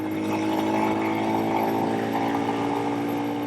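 Royal Enfield Scram 411 motorcycle accelerating through the gears, a continuous droning engine note heard from the rider's position, steady and moderately loud without breaks.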